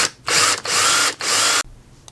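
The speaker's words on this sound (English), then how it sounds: "I don't want to break off one of my screws as I'm drilling into the hardwood, because this is oak." Three loud bursts from a power drill boring into oak hardwood, each whining for about half a second with short gaps between, close by, then stopping.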